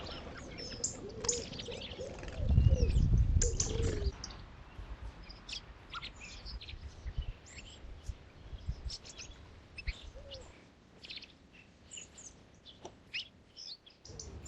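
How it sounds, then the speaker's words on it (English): A willow warbler lingering into early October on a UK smallholding gives high, scattered chirps and short calls, with a louder low burst of sound early on and quieter calls continuing across the rest. "This willow warbler was still here beginning of October."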